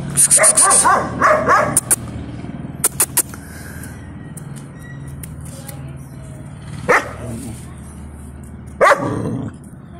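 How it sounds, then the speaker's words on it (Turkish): A Kangal and a hunting dog bark in a flurry of sharp, close barks at the start, then let out scattered single barks and yips over a low background hum, with a person speaking between them. "Sivas Kangal'la av köpeği tut."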